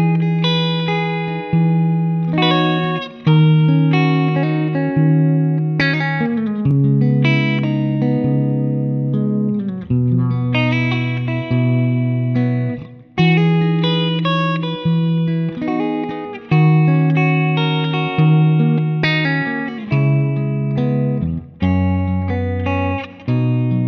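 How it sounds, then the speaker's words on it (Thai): A clean electric guitar played through a NUX Mighty Plug MP-2 headphone amp picks out a melodic line of single notes and chords, with distinct plucked attacks and ringing sustain, alone and close throughout. "เดี๋ยวเรามาฟังเสียงคลีนจากกีตาร์ไฟฟ้าก่อนนะครับ"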